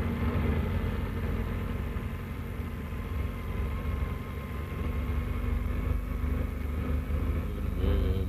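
A motor car engine running steadily in a low, continuous rumble with a faint hum, idling close by and alone without talk throughout.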